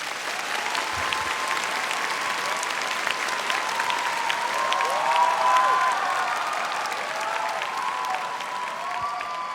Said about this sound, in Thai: ขอเสียงปรบมือเป็นกำลังใจหน่อยได้ไหมครับ